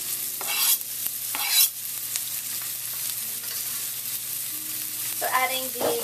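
Garlic and onion fry in oil in a wok for Vietnamese fried rice, a steady sizzle with louder bursts of stirring and scraping near the start and again toward the end; no talking.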